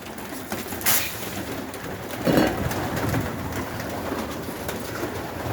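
Soft pigeon coos murmur in the background over a steady outdoor hiss, with a brief brighter flutter or call near the start.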